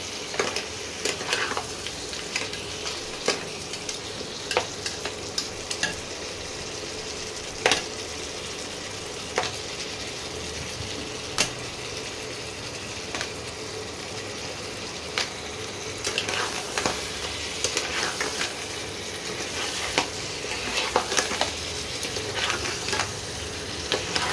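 Crab claws frying in spice masala for a Bengali crab kosha, with a continuous sizzle and frequent scraping clicks of a spatula stirring against the pan.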